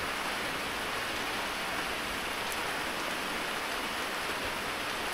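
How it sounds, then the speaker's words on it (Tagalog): Heavy rain pours down in a dense, even hiss of countless drops striking surfaces, loud and steady from start to finish, with no voices over it. "napakalakas ng ulan"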